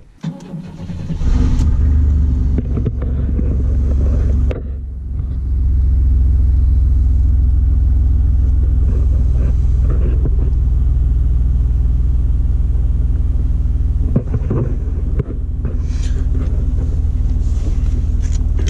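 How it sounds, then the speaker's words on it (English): Inside the cab of a straight-piped beater car while driving, the engine roars loud and continuous with a deep rumbling drone, briefly dipping and surging as it shifts and revs before settling back into a steady heavy growl. "Here's what it sounds like inside the cab."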